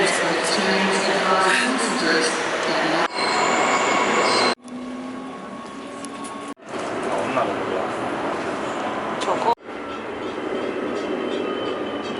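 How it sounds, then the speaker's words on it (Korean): A metro train in Perth runs along the line with a loud, continuous rumble and rattle, wheel squeal and abrupt changes in level as it moves between sections, and faint voices are heard inside the carriage. "지금 겨우 메트로 타는 시간에 맞춰서 왔어요"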